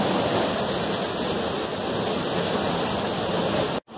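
A waterfall in a canyon roars steadily and close, a dense continuous rush of falling water that cuts off abruptly at the end.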